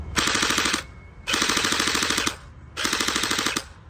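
An airsoft M4A1 rifle running on a 3S battery fires three rapid full-auto bursts, each about a second long, with a fast buzzing mechanical rattle, loud and close, separated by short pauses.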